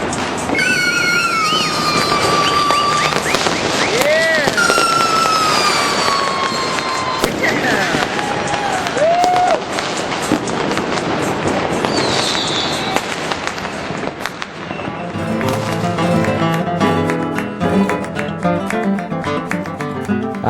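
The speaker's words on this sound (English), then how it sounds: "From bottle rockets to cherry bombs to shotgun blasts, explosions of every type echoed down the cobblestone streets." Fireworks and firecrackers pop and bang continuously through a New Year's celebration on cobblestone streets in Buenos Aires, a loud, dense crackle with whistling rockets and sharp blasts, heavier bursts toward the end.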